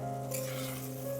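Cluster bean curry with black sesame spice paste being stirred in a pan, a steady close sizzle and frying hiss with soft scraping under it throughout, no voices.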